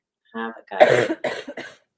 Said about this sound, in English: Excuse my cough, my throat is getting dry.